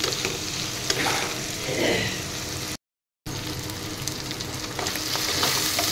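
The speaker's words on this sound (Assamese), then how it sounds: "মিনিটমান সময় এনেদৰে ভাজি ল'ম যেতিয়ালৈকে মাংসখিনি ৰং চঙোৱা নহয় তেতিয়ালৈকে ভাজিম" Chicken meat sizzling in a pan as it is stirred and fried for a curry with jackfruit seeds, a steady loud hiss with scraping stirs, briefly cut off midway.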